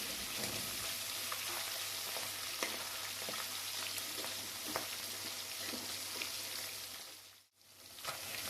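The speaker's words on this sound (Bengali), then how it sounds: "মাছগুলো আমার ভাজা হয়ে গেছে" Tilapia fish frying in hot oil, a continuous close crackling sizzle with scattered sharp pops, broken by a brief near-silent dip near the end before the sizzle resumes.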